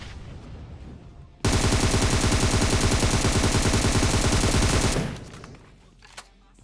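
Sustained automatic gunfire in PUBG Mobile, a rapid, loud burst of rounds lasting about three and a half seconds before cutting off and fading into quieter game ambience with a faint later report.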